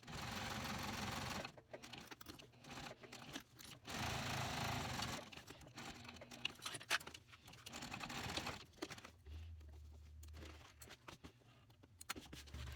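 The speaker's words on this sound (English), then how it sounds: "stitch around the 3 open edges to complete that pocket" Sewing machine stitching around the three open edges of a pocket on a mini box tote bag, close rapid whirring runs broken by short pauses and fabric handling.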